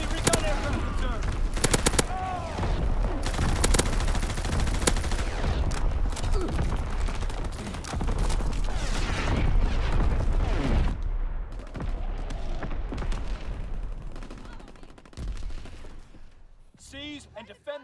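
Sustained machine gun fire in Call of Duty WW2 rattles loud and near through most of the stretch, dense bursts layered with other battle noise and game voice callouts, thinning out toward the end.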